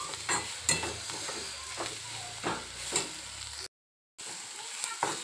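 Fenugreek leaves, green onion and coriander sautéing in a pan, a continuous sizzle with repeated spatula scrapes every second or so, close and moderately loud, broken by a brief total dropout near the end.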